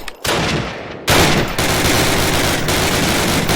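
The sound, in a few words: gunfire in the video game Call of Duty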